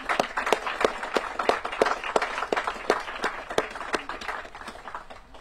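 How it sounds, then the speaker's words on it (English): A small outdoor crowd at a springtime riverside season opener claps, the individual hand claps distinct and fairly regular, fading slightly toward the end. "Let's all give Congresswoman Norton a round of applause."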